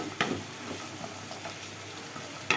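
Boiled potatoes and peas being stirred in a pan, a soft scraping and faint sizzle with a couple of sharper spoon knocks against the pan, quiet and close with no voices.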